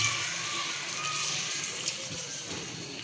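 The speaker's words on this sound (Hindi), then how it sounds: "ये मैं एक प्याली भर के इसमें पानी डालूंगी" A cupful of water is poured into a pot while making aloe vera halwa, giving a steady, hissing splash that runs throughout at moderate loudness.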